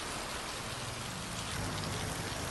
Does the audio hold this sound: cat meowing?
no